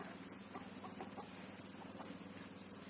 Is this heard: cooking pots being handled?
no